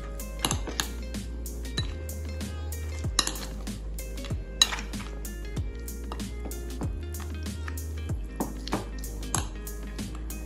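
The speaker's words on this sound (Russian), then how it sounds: "И начинаем все это тщательно перемешивать." A spoon stirs a New Year salad with chicken fillet and mayonnaise in a bowl, giving repeated close clinks and scrapes against the bowl in an uneven rhythm, with no talking.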